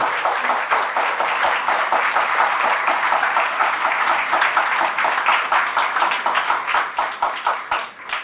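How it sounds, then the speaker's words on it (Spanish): A church congregation applauds during a sermon, loud sustained clapping with a rhythmic pulse of individual hand claps throughout, fading slightly toward the end. "Fuerte ese aplauso al Señor Jesús."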